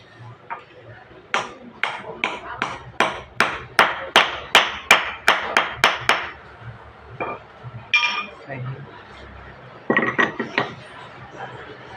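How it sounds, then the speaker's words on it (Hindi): Hammer tapping a metal part of a 1.5 submersible motor pump during repair: a run of about a dozen sharp, ringing metallic strikes in steady rhythm, then a few scattered knocks, close by, with a voice at times. "और इसको इस तरह से ठोक लेंगे।"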